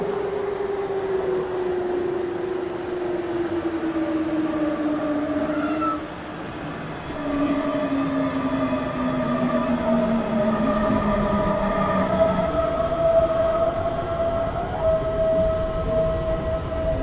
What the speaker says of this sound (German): Dann kommt noch eine andere S-Bahn rein.